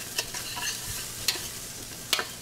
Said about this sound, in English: So mixing that up, just a minute or two, especially for this amount.